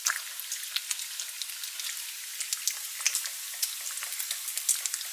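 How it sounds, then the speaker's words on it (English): Close sizzling of bacon frying in a cast iron pan, an even fizzing hiss dotted with quick pops and crackles, no voices over it. "Listen to that sizzle."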